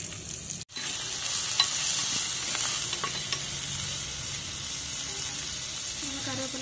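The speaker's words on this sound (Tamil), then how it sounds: "எண்ணெய் சூடானதை நம்ம வந்து வெட்டி வச்சிருக்கக்கூடிய வெங்காயத்தை போட்டுக்கலாம்" Chopped onions frying in hot oil for spicy crab masala, a continuous close hiss with faint scraping stirs and a brief cut near the start.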